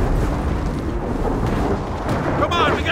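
Storm wall in the video game Gears of War 4 roars as dense, continuous thunderous rumble with low booming and wind noise, loud and sustained throughout.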